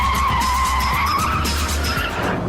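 Tyres of a Ford GT supercar drum over painted white road lines at speed, a rapid series of thumps beneath a loud, sustained engine whine with a faint tyre squeal.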